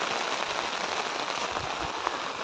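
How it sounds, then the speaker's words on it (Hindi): Heavy monsoon rain pours steadily onto surfaces near a roadside on the way to a Shiva temple during Sawan, a dense continuous hiss with no voices. "बारिश लग गई भाई बहुत ही भयंकर वाली"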